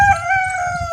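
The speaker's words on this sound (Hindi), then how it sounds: "देखो बढ़िया खूबसूरत बोलते हैं मुर्गे" Roosters crowing close by on a farm where peacocks are also kept, a drawn-out steady crow holding for the whole second, loud and alone with no talk.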